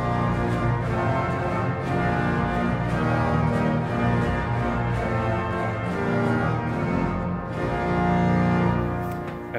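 Combined 8-foot and 16-foot trumpet stops on the Hinsz organ of the Bovenkerk in Kampen, Netherlands, sound as loud, sustained, reedy chords that hold steadily and swell slightly near the end, with no talking.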